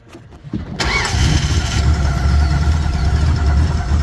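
A Ski Nautique boat engine cranks over and starts after an oil change, then settles into a steady, loud, rumbling idle close by, with no talking.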